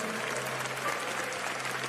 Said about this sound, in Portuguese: use as suas mãos para bater palmas e dar glória a Deus